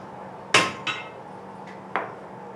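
A blacksmith hammers metal in a family forge where old-style tools are made: three sharp ringing strikes, the first loudest, spaced irregularly, with a fainter tap between them.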